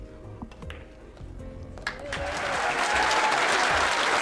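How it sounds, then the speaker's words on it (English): Audience applause breaks out for Earl Strickland at a pool match, starting as sparse claps beneath quiet commentary and swelling into a dense, sustained ovation. "The applause you hear is for Earl Strickland."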